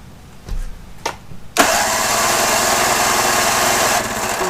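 A 1983 Mercury 25hp 25XD outboard motor, choke on and primer bulb pumped, gives a couple of brief pulls before catching and roaring into a loud, steady, close-up run.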